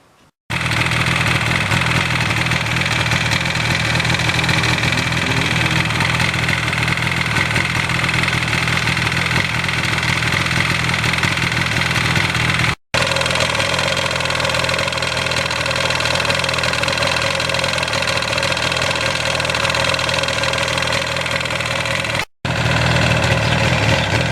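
Engine of a 1982 Suzuki GS1100E motorcycle idling steadily nearby, a loud continuous mechanical rumble with a slight knocking vibration, broken only by two very brief cuts, with no voices.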